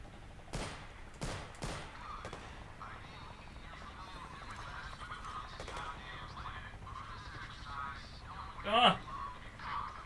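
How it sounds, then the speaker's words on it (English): Gunfire from shooting in a virtual-reality game on an Oculus Rift S: several sharp shots come close together at the start, followed by a few sparser bangs and a brief loud cry near the end, with faint voices in the background. "We're just shooting them."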